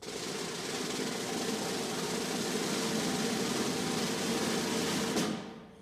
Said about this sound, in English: And so the buzz roll is the type of rudiment.